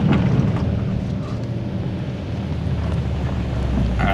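A 2025 Hyundai Santa Cruz at full throttle off-road gives a steady loud low engine roar with rumble and wind buffeting throughout.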